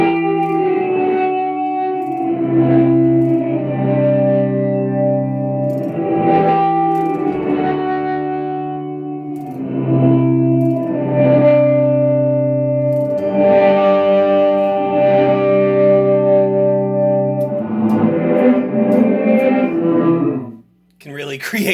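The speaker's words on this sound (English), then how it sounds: "The reverse setting is also kind of cool." Electric guitar run through an effects pedal set to reverse, played loud and alone as sustained notes that swell in backward-sounding waves with heavy echo-like wash over about twenty seconds, ending in a sudden brief drop.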